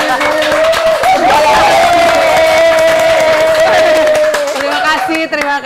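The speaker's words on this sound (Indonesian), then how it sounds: "Tepuk tangan Bapak-bapak Ibu-ibu." An audience at a Balai Besar Litbang Pertanian event claps and cheers loudly, with a sustained voice calling out over the crowd and scattered whoops throughout.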